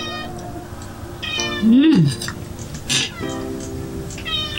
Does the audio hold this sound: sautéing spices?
no